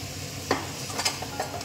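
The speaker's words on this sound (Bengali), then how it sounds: "এরপর আমি জল দিয়ে দিচ্ছি।" Water poured into a hot pan of frying banana stem, hissing and sizzling steadily while a spoon stirs and scrapes a few times, close and fairly loud.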